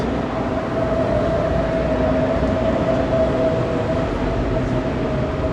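A train rumbles past nearby in Siegburg, Germany, with a steady, heavy roar and a faint tonal hum running through it, loud and unbroken.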